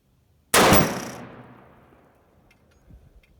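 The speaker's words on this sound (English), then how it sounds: "I'm gonna take a couple shots on that, and we're gonna go for the arm of that thing" A single loud rifle shot cracks close by and rings out into a long decaying tail outdoors, aimed at a steel gong target, followed by a faint distant clink and quiet.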